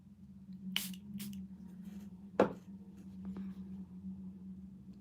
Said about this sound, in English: Spray the brush.